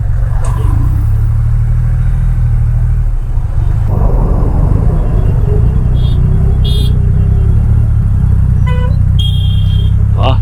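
A Triumph Rocket 3 GT motorcycle rides a highway toward Kolatghat, its engine a loud, steady low rumble with wind roar, while car horns toot briefly in passing traffic.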